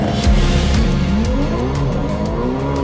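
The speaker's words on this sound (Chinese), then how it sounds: "其实上一趟阿古没打滑，这一趟又打滑了" A modified drag car launches off the line with its tires spinning: a loud engine roar rising in pitch through the gears, with tire squeal, close and continuous, no speech.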